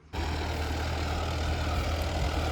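A tractor engine with a plough attached, set up for deep ploughing in hard black soil, kicks in abruptly and keeps running with a loud, steady low diesel rumble close by, with no talking.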